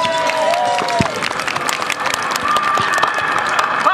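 An audience claps hands at a lively show, loud dense applause with scattered cheers running continuously and close.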